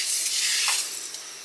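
A piece of steak sizzles in a hot pan on a small camping stove inside a van, giving a steady, close, bright hiss with a faint swell midway, and no voices over it.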